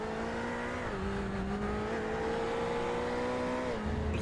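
Race car in the iRacing video game at Circuit de Gilles running flat out through a right-hander, a steady engine drone shifting pitch as it brakes into a chicane, heard alone and moderately loud.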